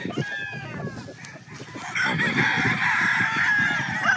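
An early bird banded rooster crows, its call clear and fairly close, with other fowl clucking and calling in the farmyard around it.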